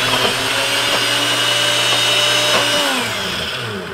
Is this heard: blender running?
yes